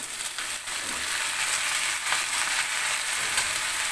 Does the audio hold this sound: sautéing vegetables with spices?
yes